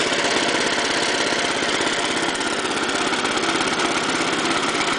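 A cold-started engine idles steadily and loudly up close, a continuous rough mechanical drone with a fast even pulse running throughout and no voices.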